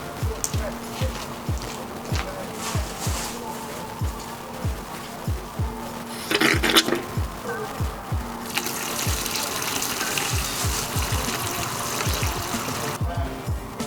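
Coolant and water gush and gurgle through the heater core hoses of an Audi A4 1.8T during a flush, with a steady rushing flow and repeated sloshing surges up close and a louder splashing burst near the middle.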